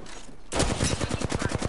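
Rapid automatic gunfire bursts out loudly in Apex Legends, a fast run of close shots after a quieter half-second lead-in, with no talking.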